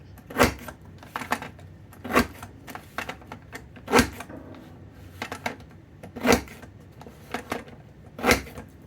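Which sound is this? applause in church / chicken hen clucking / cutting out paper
cutting out paper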